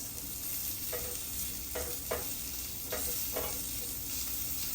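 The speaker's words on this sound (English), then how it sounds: "saute it for 2 minutes. You'll see it turn a little darker red color" Chopped tomatoes sauté in a pan for Turkish menemen, a soft steady sizzle broken by several short scraping stirs of a utensil, close and fairly quiet, with no voices.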